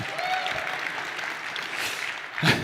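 Audience clapping at a React developer conference keynote, a fairly faint and steady patter of many hands with a brief louder swell near the end and some voices underneath.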